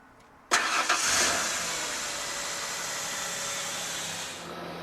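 A car engine starts during a jump start, with the other car's engine running: it catches abruptly after a brief crank and then settles into a steady, loud, even idle.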